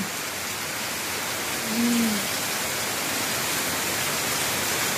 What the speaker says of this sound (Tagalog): Grabe ang lakas-lakas ng ulan.